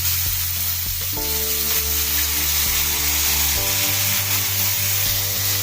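Small chopped potato pieces frying in oil, a steady close sizzle throughout with a low electrical-sounding hum beneath, no talking.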